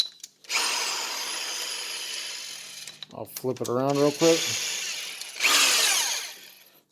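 A power drill whirs in two sustained bursts during RC drag racing motor maintenance and bearing replacement, loud and close, with a short stretch of someone talking between the runs.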